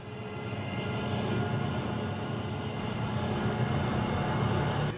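Airplane cabin sound in a flight attendant evacuation trainer, a steady broad engine roar and hum that holds at an even level throughout, with no voices.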